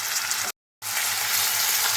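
Chopped onion, added after garlic and dried chilli, fries in hot oil in a pan with a steady, dense sizzle that briefly cuts to silence partway through before the continuous frying resumes.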